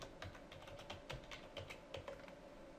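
Steady typing on a computer keyboard while entering a username to join a PC to a Zentyal domain, with quick close key clicks running evenly throughout and no talking.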